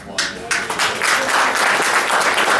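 Conference audience breaks into applause, a few scattered claps at first that quickly build into steady, full clapping from a sizable crowd.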